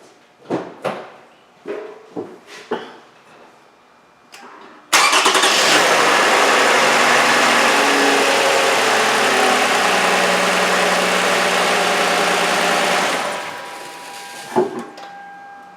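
A 2008 Toyota engine cranks briefly and catches, then settles into a steady, loud idle for several seconds before dropping off, preceded by a few clunks and door or hood sounds.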